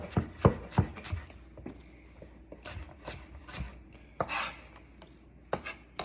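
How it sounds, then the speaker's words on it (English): A knife chops onions on a cutting board in irregular sharp strikes, some close and crisp, others softer scraping and tapping, with pauses between bursts. "Then we're gonna run the knife down in about 1/4 inch to 1/2 inch pieces, depending on how thick you want it."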